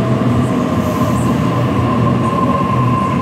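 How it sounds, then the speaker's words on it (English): A City Circle train in Sydney pulls into the station, a loud continuous rail rumble with a steady whine and faint squeal, heard close by. "And here comes our train."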